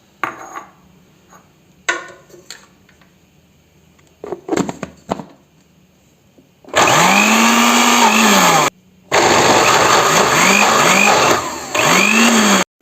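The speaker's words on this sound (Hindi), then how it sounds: "इसकी प्योरी बना रही है ब्लेंडर जग में" Boiled spinach pureed in a blender jug: after some clatter and handling, the motor roars up loud and steady for a couple of seconds, cuts out briefly, then resumes whirring with pitch dips as the blades churn.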